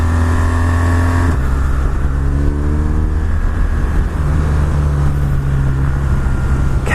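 A BMW R1200R motorcycle engine drones loud and close while being ridden, its pitch rising and dropping through gear changes under steady wind rush, with no talking.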